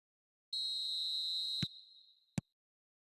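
Referee's whistle opening a match in the eFootball 2026 football video game: one long, shrill, steady blast that fades away, followed by two short sharp clicks, all clean and isolated against silence.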